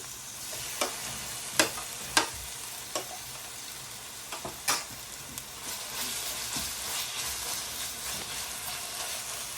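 Ginger garlic paste fries in a pan for kothu roti under a steady soft sizzle, with sharp spoon scrapes and taps at irregular intervals, all close and with no talking.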